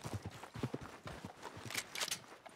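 A horse's hooves clip-clop at a walking pace in Red Dead Redemption II, a quiet, uneven run of close hoof strikes with a few brighter scuffs.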